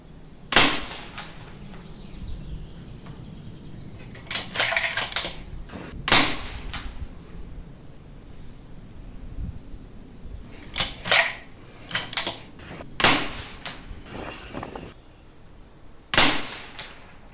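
A Bergara rifle fires on an outdoor shooting range, giving a series of sharp, sudden cracks spaced irregularly over several seconds, some close together, with quieter clicks and handling noises between them.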